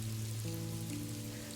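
Steady rain pours down in a continuous, dense hiss, close and even throughout, with a low sustained musical drone underneath and no voices.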